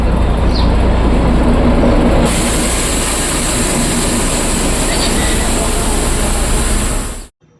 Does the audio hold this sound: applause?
no